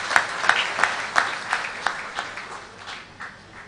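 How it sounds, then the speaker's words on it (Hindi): A hall audience claps at a Hanuman Katha devotional gathering in Kandivali, Mumbai, a light burst of applause with distinct claps that gradually thins out. "ताली बजा दो इनके लिए"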